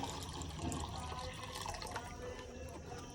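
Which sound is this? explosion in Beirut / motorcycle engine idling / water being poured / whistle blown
water being poured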